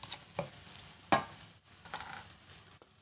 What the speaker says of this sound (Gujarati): હવે આના અંદર લીલા મરચાંની પેસ્ટ નાખીશું પીસેલી ડુંગળી પણ આની અંદર એડ કરીશું